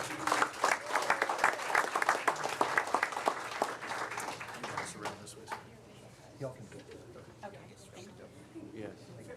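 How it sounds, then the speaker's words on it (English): A round of applause at a city council meeting, crisp clapping that builds for about four seconds before tapering off into scattered claps, shuffling and quiet room chatter. "after one round of applause"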